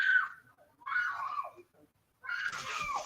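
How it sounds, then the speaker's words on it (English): Children scream through an open window in three sharp, shrill bursts of about half a second each, separated by short silences, fairly loud and close. "These fucking kids scream like somebody's gonna kill them."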